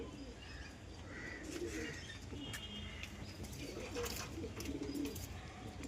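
Soft, muffled pigeon coos repeat among faint chirps and occasional wing rustles, low and fairly quiet throughout.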